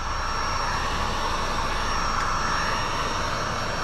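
An aircraft drones overhead outside a house near an airport, a steady, unbroken engine roar that holds at an even level throughout, with no voices.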